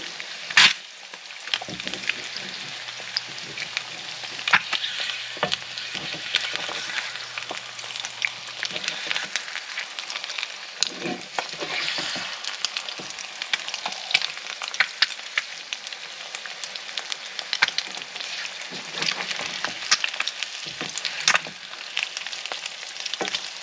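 Over-easy eggs fry in a cast iron pan with a steady, bright crackling sizzle close by, dotted with sharp spits and pops and occasional light tapping from a spatula.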